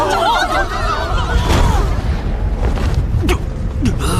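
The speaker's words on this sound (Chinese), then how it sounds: "火莲那般近距离的爆炸" A deep booming blast from a fire lotus explosion in an animated battle, heavy low rumbling with crackling bursts rolling over several seconds, loud and close amid the chaotic roar of combat.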